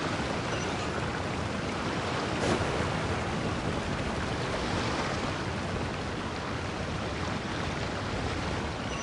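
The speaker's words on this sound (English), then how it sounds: "The sound of the waves in this familiar port" Steady ocean waves wash at a port in the video game Genshin Impact, a continuous broad surf hiss holding at an even, moderate level for the whole stretch with no talk.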